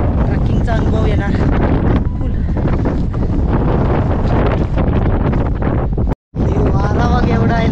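Strong wind on the Brahmagiri mountain trek near Trimbakeshwar, Nashik, roars and buffets the microphone loudly and constantly, with a brief dropout near the end and voices faintly mixed in.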